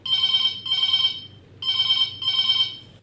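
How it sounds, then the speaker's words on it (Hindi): An old-style telephone bell rings in two double bursts with a short gap between them, clear and bright over a faint background, during a Hindi farmers' call-in radio programme. "जा बजन लगी फोन की घंटी"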